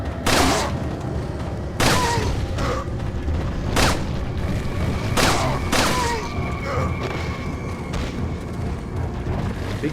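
Booming gunfire from a weapon in the video game Resident Evil 4 comes as heavy, loud blasts repeating every second or two over a dense, rumbling game soundscape.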